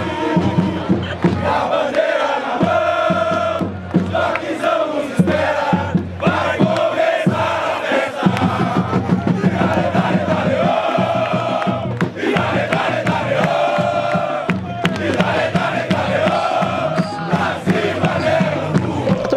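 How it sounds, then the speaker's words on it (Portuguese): Esporte Clube Taubaté football supporters chant in unison in a stadium, a loud, dense crowd song with rhythmic shouted phrases carrying on throughout. "A torcida do Taubaté é empolgante, né? A torcida do Taubaté é fiel."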